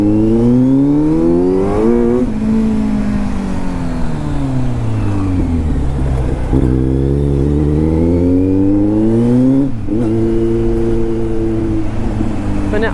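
A Kawasaki Z motorcycle fitted with an Arrow Pro Race titanium exhaust is ridden hard, its engine droning loudly and steadily, rising and falling in pitch as it revs up and shifts through the gears without a break.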